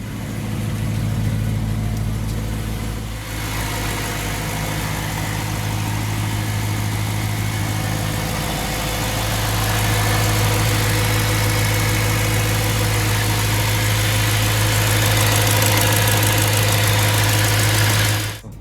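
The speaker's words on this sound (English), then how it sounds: "The car is running and idling smoothly." A BMW M3 (E90/E92/E93) engine idles steadily at close range after injector replacement, a smooth continuous low rumble with a slight shift in tone partway through, no voices.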